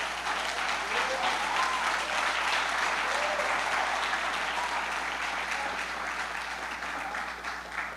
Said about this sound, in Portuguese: Você pode aplaudir Ele por isso?